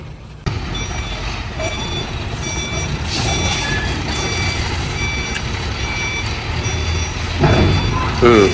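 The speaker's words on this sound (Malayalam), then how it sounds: "ആ ലോറി കയറിപ്പോയി ബാക്ക് വെച്ച് തള്ളി കയറ്റി കൊടുത്തു" Repeated electronic reversing beeps from a truck backing up to push a stuck lorry, steady over a constant rumble of engine and road noise, with faint voices in the background.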